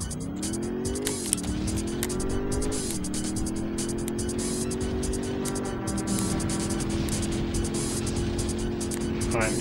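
A car in the PlayStation racing game Driver 2 speeds along and overtakes, its engine holding a loud droning tone that climbs with each gear and drops at shifts, while someone talks over it throughout.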